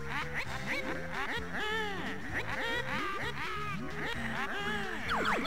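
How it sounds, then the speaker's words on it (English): Cartoonish bird calls from the Banjo-Kazooie video game, a dense run of bouncy, quacking, duck-like chirps repeating in quick succession over game music, loud and close throughout, with no talk. "Did you hear that bird?"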